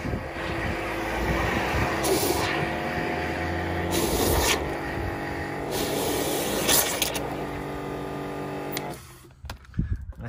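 Generic car wash shampoo squirted into a bucket being foamed up, a steady loud rushing spray of water that runs for about nine seconds before cutting off, leaving a few faint clatters.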